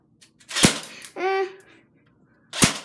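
Two sharp spring-powered shots from an airsoft AK-47 aimed at apples, each a loud crisp crack about two seconds apart, with a brief voiced shout between them.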